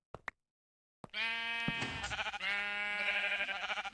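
A Minecraft sheep bleats repeatedly, loud and close, with long wavering calls after two short clicks and a brief silence.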